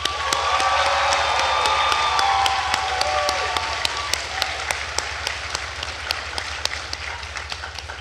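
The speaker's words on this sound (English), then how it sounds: "Please join me in a round of applause to acknowledge their efforts." Sustained applause from a commencement ceremony crowd, steady dense clapping with sharp individual claps standing out, a faint tonal hum beneath, gradually thinning toward the end.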